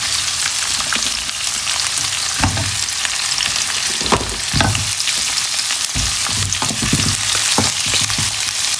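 Chicken pieces for a tomato-stewed chicken dish sizzle and fry loudly in a hot pan, a steady dense crackle with occasional stirring scrapes and bursts of spatter, no talking.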